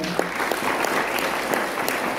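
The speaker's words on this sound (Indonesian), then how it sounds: "Berikan tepuk tangan buat Tuhan kita." Steady applause from a church Christmas celebration audience, dense and continuous with no voices over it, filling a large room at even loudness throughout.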